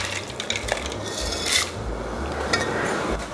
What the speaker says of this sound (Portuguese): Eu já vou colocar aqui a nossa massa para cozinhar.